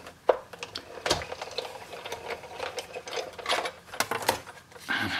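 Sizzix die-cutting machine cranking card stock through its rollers, a continuous close mechanical clatter of ratcheting clicks and grinding that rises and falls in loudness.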